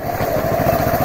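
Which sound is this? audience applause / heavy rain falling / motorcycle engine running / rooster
motorcycle engine running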